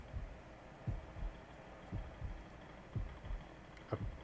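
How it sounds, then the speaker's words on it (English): A constant heartbeat sound effect in the video game Yomawari: Night Alone, steady low double thumps repeating about once a second over a faint hum, with no speech. "It's just a constant heartbeat."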